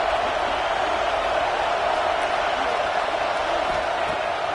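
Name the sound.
stadium crowd noise in NCAA football video game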